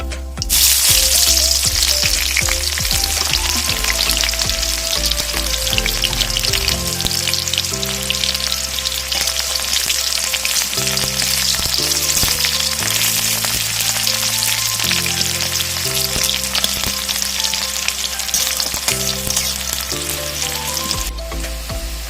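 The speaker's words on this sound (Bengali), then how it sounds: "পেঁয়াজটাও দিয়ে দিচ্ছি।" Sliced onions frying in hot white cooking oil with whole garam masala and bay leaves, a steady loud sizzle and crackle running unbroken throughout, with soft background music underneath.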